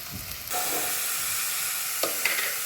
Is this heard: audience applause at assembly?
no